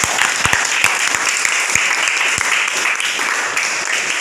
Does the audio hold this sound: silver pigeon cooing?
no